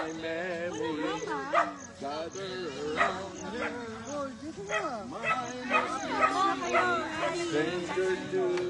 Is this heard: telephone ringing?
no